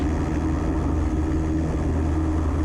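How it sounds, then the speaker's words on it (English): Light aircraft engine running at full takeoff power during the takeoff roll, a steady, loud droning hum with strong low harmonics that holds constant throughout, with no talk over it. "Full power. Engine instruments in the green. Power available for takeoff."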